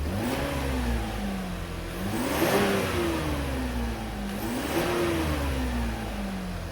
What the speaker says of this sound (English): we're going to go in and do a few wide open throttle snaps right now